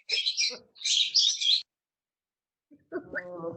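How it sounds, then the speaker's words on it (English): Loud bursts of bird chirping and tweeting ring out close by for over a second, then fall silent before a short voice comes in at the end. "Serenaded by the birds."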